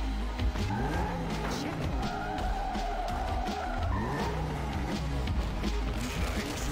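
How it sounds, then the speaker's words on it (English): A car in the Cruis'n arcade racing game fires its nitrous boost on a straight, with loud continuous engine roar, tire squeals and skids, and layered game music and effects throughout. "Use nitrous because I'm on a straight."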